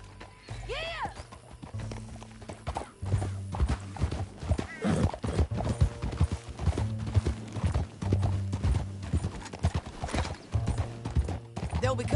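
Horse hooves clip-clop in a quick rhythmic patter, close and steady, with a horse whinnying early on and voices talking over the galloping.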